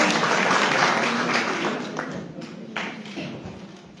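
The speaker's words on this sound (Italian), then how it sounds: "Ancora un applauso per Angela Zotti." Audience applause at the Premio Matrona Busa award ceremony in Canosa di Puglia: a dense, steady wash of clapping from a crowd that thins and fades slightly toward the end, with no voices over it.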